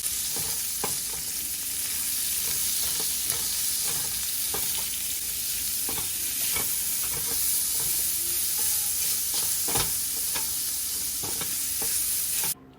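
Thinly sliced onions fry in a pan with a steady broadband sizzle, broken by recurring scrapes and clicks of stirring, close and continuous with no talking.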